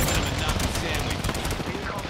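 Video game gunfire in a shooter match, dense rapid bursts of shots crackling continuously at close range.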